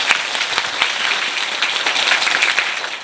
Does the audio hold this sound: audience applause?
yes